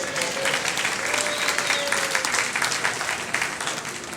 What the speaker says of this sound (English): Let's give Jim a big round of applause